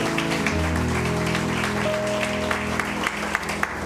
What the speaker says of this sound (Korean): 서로에게 축복의 박수 하겠습니다